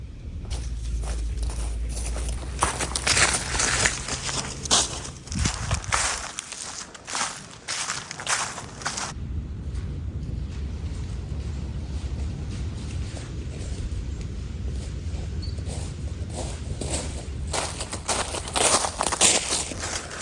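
Footsteps crunching and rustling through dry leaves, a steady crackly shuffle close by with a brief pause partway through.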